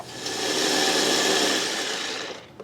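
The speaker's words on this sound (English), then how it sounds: "I'm going to blend them in my little blender here to make them into fine crumbs" A small kitchen blender grinds pork rinds into fine crumbs for Southern-style cornbread, a steady loud whirring roar that runs nearly the whole time, then cuts off at the end.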